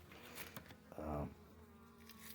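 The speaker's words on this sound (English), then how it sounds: "there's still maybe a handful of bees inside of it" Bees buzz close by in a low droning hum that swells briefly, with faint rustles and taps around it, a few bees left inside a hive in winter.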